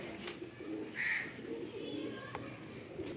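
Soft coos from a male and female pair of Mirab-breed pigeons rise from a quiet background, with a few faint clicks and shuffles nearby.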